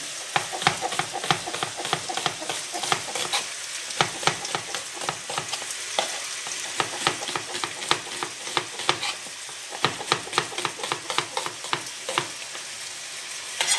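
Chicken pieces fry in a pan for a restaurant-style chicken curry, a continuous sizzle punctuated by frequent clattering stirs and spatula scrapes, close and fairly loud throughout with no talk.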